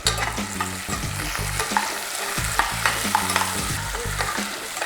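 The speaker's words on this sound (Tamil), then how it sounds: "சோம்பு பொரிஞ்ச உடனே வெங்காயம் போட்டுக்கிறேன்" Thinly sliced onions frying with fennel seeds in hot oil for a mutton fry, a close, bright sizzle broken by rhythmic stirring strokes, with no voices.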